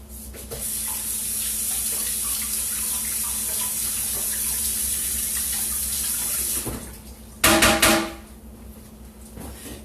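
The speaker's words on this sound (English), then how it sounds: "Now I'm going to rinse this off real quick." Tap water runs steadily from a kitchen faucet as a spatula is rinsed, a continuous hiss that breaks off with a short burst of splashing and clatter near the end.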